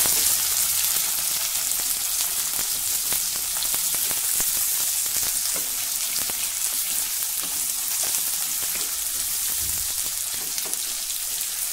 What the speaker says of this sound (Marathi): आता हा कांदा थोडा मऊ होईपर्यंत आपल्याला हे परतवून घ्यायचं आहे